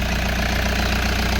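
A 2017 Toyota Hiace's 2KD engine, with a delayed check engine light and brake override problem under ECU repair, idles loudly up close with a steady rough knocking rumble; no start-up is evident.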